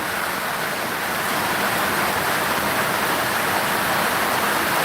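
Dense, steady rush of heavy rain pours without letup, a broad hissing roar filling the scene with no voices.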